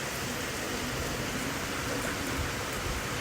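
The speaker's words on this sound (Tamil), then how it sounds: "திரும்பவும் செம மழை அண்ட் கூடவே என்னென்னா செம புயல் காற்று ஓடிக்குது" Heavy monsoon-style rain in Chennai pours in a dense, constant hiss, with strong storm wind blended into the steady wash of water, loud and unbroken.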